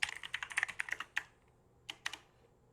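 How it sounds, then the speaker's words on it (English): Quick bursts of typing on a computer keyboard, close and quiet, with sharp key clicks in a rapid cluster, a pause, then a few more strokes. "Sorry, typing"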